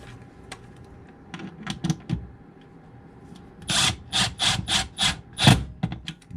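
A hand ratchet drives a screw into a wall anchor with a run of crisp, evenly spaced clicks up close, after a few scattered quieter taps and scrapes.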